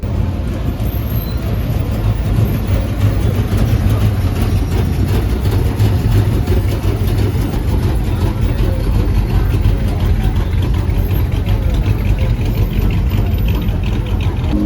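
Supercar engines with stock exhausts idle and rumble steadily at a busy street gathering during an F1 weekend in Montreal, a continuous low drone with crowd noise mixed in and no clear rev spikes.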